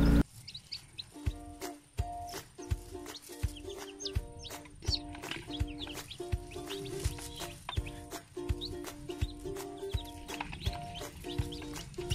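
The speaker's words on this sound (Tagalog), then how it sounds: "So ito talaga is pure talaga ito na native na manok. So yan. So yung sisiw nito is nasa 14." Native chickens and chicks in a pen, rapid repeated high clucks and peeping calls over a series of regular knocking thumps, fairly close and continuous with no speech.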